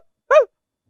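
A single short, sharp bark from a person imitating a dog, close and clear, then silence.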